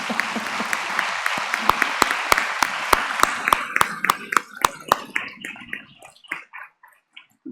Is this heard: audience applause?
yes